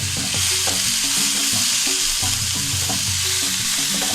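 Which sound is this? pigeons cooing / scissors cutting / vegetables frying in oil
vegetables frying in oil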